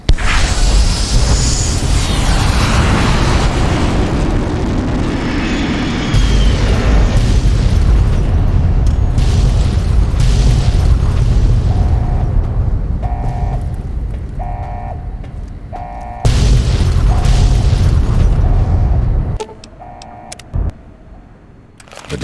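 Massive explosions and falling missiles in Fallout: New Vegas roar continuously as a dense, booming rumble, then give way to a pulsing alarm-like tone and a few final blasts before trailing off.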